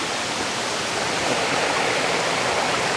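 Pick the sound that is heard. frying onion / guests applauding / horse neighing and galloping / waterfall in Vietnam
waterfall in Vietnam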